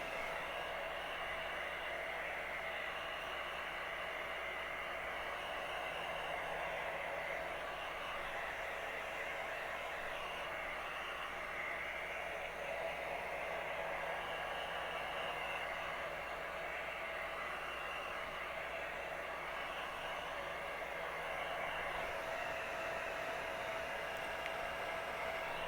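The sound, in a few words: old pink hair dryer running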